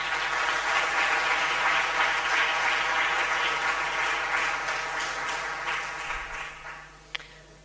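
An audience at a Ugandan governance forum applauds in a dense, sustained wash of clapping that slowly fades, ending with a faint sharp tap.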